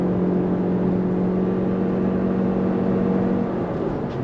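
A Toyota RAV4 Prime hybrid SUV towing a 2,200-pound A-Liner pop-up camper accelerates hard up a steep highway incline at about 60 mph, with a steady loud engine and road roar held throughout, no talk.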